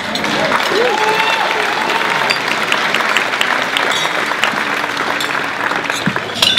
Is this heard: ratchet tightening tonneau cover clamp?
no